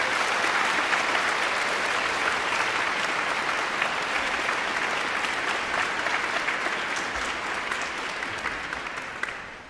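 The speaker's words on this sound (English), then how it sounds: "we're going to take 10 seconds to applaud those moms in this building right now." A packed audience at a graduation ceremony applauds mothers in the hall with dense, continuous clapping for about ten seconds, loud and even, easing off slightly toward the end, with no talk over it.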